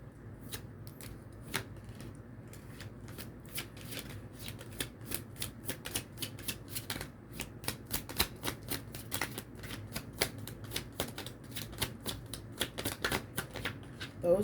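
Tarot cards shuffled and handled close up in a steady stream of crisp flicks and riffles, continuing for the whole stretch with faint background hum and no talk.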